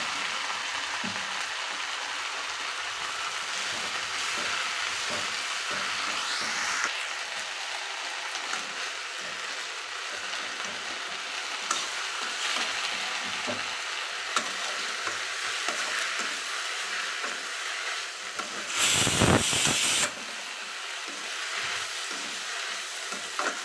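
Mint leaves sautéing in a pan, a soft continuous sizzle with scattered stirring scrapes throughout, and one brief louder hiss near the end.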